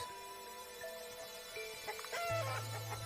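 Game chicken in an RPG Maker video game clucking in a short burst of calls near the end, over steady background music tones, with no talk.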